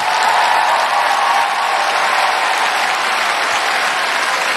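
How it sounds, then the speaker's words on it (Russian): A concert hall audience at a Moscow music award ceremony gives a standing ovation: dense, steady applause that fills the room without a break and with no talking. "весь зал стоя вам аплодирует"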